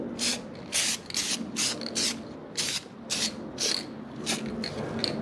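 Spray paint hisses onto an LS engine in light tack coats, a string of short, close bursts about a second or less each, separated by brief pauses over a steady low background hum.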